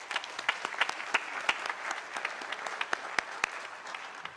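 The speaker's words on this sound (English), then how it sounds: "Please give them a round of applause." Audience applause at a fall university opening convocation, a steady field of clapping with distinct individual claps popping out at a regular pace, no voices over it.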